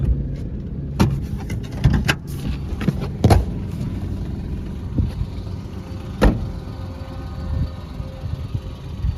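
Low steady idle of a stopped car at night on a road, with a few clicks and knocks from inside the cabin over the engine hum.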